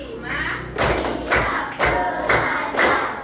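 Classroom students clap together in a steady counted rhythm, about five loud, evenly spaced group claps with a chanting voice running beneath and between them.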